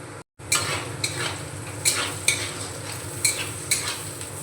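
Chopped garlic fries in oil with onion for navratan pulao, a soft continuous sizzle punctuated by several sharp spatula scrapes and clinks against the pan at a steady stirring rhythm.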